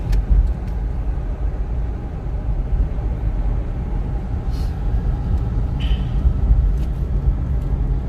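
An automatic-transmission car climbing a winding mountain road, heard as a loud, steady low engine and road rumble from inside the cabin, with a couple of faint brief higher squeaks; no speech.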